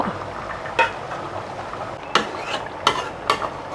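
A pot of Thai cassia-leaf vegetable curry with pork skin bubbles and hisses steadily at close range, broken by a few sharp clinks of a utensil or lid against the pot.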